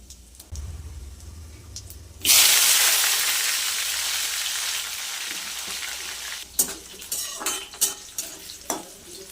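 Sliced bitter gourd hits hot oil in a pan, starting with a loud sizzle that tapers off, followed by several sharp scrapes and clinks as the pieces are stirred.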